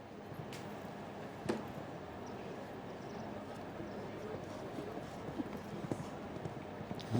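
Show jumping horse hooves pound at a Longines Global Champions Tour event in Cannes as the horse runs on. Faint, rhythmic clip-clop beats sound under steady talk and arena noise.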